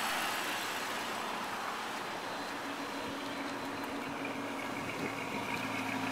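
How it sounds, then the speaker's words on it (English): A Dodge Charger engine runs with a deep, throaty exhaust rumble, a steady, even drone heard at moderate distance without any talking. "But a nice, very nice throaty rumble in the back. And that's our Charger engine."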